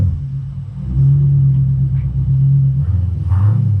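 A car engine rumbles low and steady inside a garage as vehicles are shuffled around, rising slightly in level and holding a sustained hum, with faint clatter near the end.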